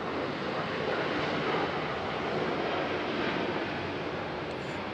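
A United airliner at RDU airport gives a steady, loud broadband engine roar that holds evenly throughout, with wind-like noise and no talking.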